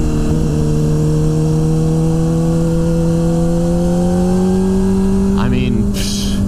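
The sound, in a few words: Honda CBR600RR motorcycle engine while riding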